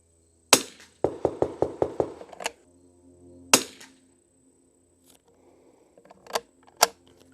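Winchester 52E rifle firing Eley match ammunition during lot testing: a loud sharp report, then a rapid train of clicking bolt or mechanical clacks, another sharp shot, and softer clicks and thumps afterward, no talk.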